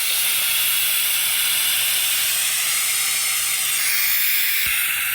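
A pressure cooker used for black beans vents steam in a loud, continuous, close hiss that holds steady for several seconds.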